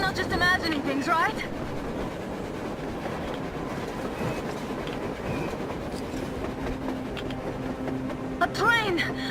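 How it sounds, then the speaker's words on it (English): A train in the game Metro Exodus rumbles steadily with rhythmic clattering of wheels on rails, a continuous mid-distance roar, while voices and squealing metal tones rise briefly at the start and end. "A train! A damn train on the surface!"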